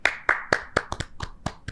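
A run of eight sharp hand claps, close and crisp, beaten in a loose, fairly even rhythm with slight gaps between them; no talk.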